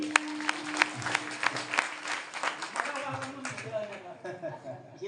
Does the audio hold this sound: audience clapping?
yes